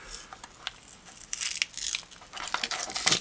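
Plastic packaging around micro SD cards torn and crinkled open by hand, with sharp irregular crackles and rips close up, growing louder toward the end.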